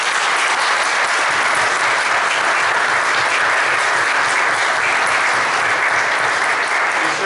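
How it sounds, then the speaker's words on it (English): Sustained, dense applause from a church congregation during Sunday Mass, loud and even for the whole stretch, many hands clapping at once in a large reverberant space. "Now let us show our support with a round of applause."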